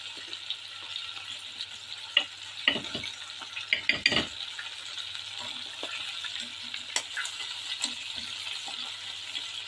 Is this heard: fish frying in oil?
yes